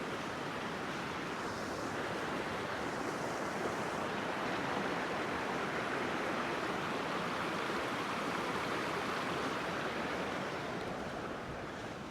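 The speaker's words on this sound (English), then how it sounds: "Creek's flowing." Steady rushing water flows continuously, a broad constant wash of noise with no voices, like a creek running close by.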